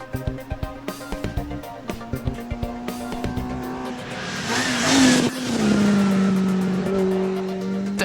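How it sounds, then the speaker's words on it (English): A Mini race car with a 16-valve engine on a circuit, upshifting through rhythmic rev bursts, then a sustained loud high-revving wail as it passes close. "Just listen to that 16-valve engine."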